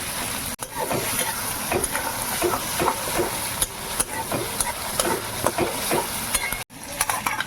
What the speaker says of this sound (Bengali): কালো জিরে, কাঁচা লঙ্কা, রসুন এগুলো বাটা বেটেছি তো বন্ধুরা, একটুখানি তেলের মধ্যে দিলে আগে তাহলে গন্ধটা চলে যাবে কাঁচা